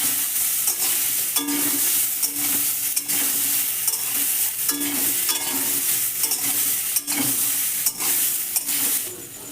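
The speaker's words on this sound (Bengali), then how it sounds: "আমলকি কুচগুলো কিন্তু ফেলে যাবে না এরকমই থাকবে ভালো করে ভেজে নিচ্ছি" Chopped amla (Indian gooseberry) fries in hot oil for pickle, giving a loud, continuous sizzle broken by regular scraping strokes of a spoon stirring the pan.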